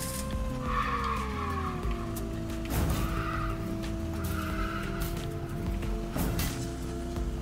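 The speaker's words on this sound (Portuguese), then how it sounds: "Ah, é um turbo." A turbocharged car engine drones steadily in a driving game, with pitch changes as it revs, and tire skids and squeals run over it at a fairly loud, close level.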